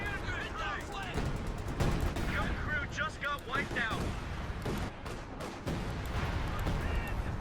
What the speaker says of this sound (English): We do see a 105mm howitzer barrage getting called in on top of something.